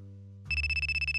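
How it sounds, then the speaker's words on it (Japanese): A smartphone rings with a bright electronic ringtone that cuts in abruptly after a low steady hum, pulsing in quick regular bursts, loud and close, with no talk over it. "目覚ましじゃなくて電話か。"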